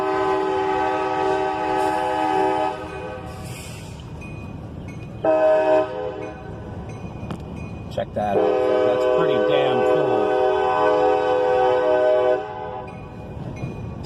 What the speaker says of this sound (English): I want to get footage of this train coming by.